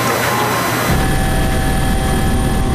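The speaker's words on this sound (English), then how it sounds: "the air and marine chopper responds to the next alert" A border patrol air and marine helicopter flies about 500 feet above a port on the US–Mexico border, its steady loud rotor and engine roar filling the air continuously with no voices.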